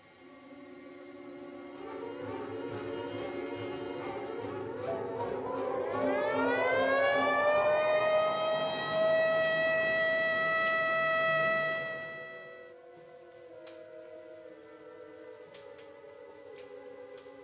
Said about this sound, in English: I want an ambulance sent to the Chicagoan Hotel on State Street.